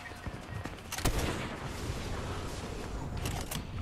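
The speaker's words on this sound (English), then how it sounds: "there's a bunch of shooting in front of us right now" Close gunfire in a Fortnite battle, a run of sharp cracks and rattling bursts over a dense, noisy game background.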